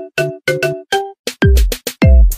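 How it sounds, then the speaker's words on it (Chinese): A mobile phone ringtone plays late at night: a bright, melodic run of repeating electronic notes with deep thumping beats, loud and clear, with no one talking. "这个老曾那么晚打过来"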